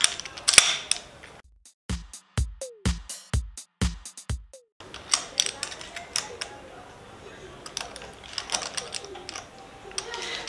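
Screws on a MOTORWOLF motorcycle phone mount being tightened, a run of sharp ratcheting clicks in quick succession followed by lighter mechanical rattles and creaks, close by, with speech around it.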